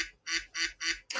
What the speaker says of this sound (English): Yep, ducks.